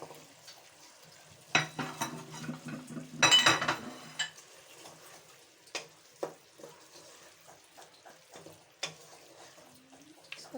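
Eggplant pieces tipped into a pot of cooked potatoes and stirred, with a loud clattering tumble followed by scattered scrapes and knocks of a spoon against the pot, mostly quiet between strokes.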